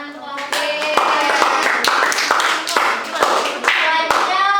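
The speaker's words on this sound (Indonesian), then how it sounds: "Tepuk tangan untuk kelompok B." A classroom group claps together for a student team that has just presented, a burst of sharp hand claps with voices mixed in underneath.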